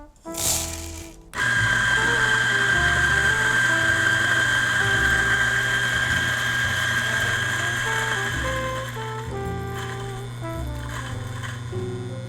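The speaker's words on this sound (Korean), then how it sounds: "이 민용 도징컵에다가 20g을 담고 그라인딩을 해서 얼마나 나오는지 한번 확인해 볼게요" Eureka Mignon single-dose home espresso grinder milling a 20 g dose of coffee beans from its dosing cup, a loud steady whirring motor drone with gritty crunching that runs continuously after a short opening clatter, easing slightly near the end.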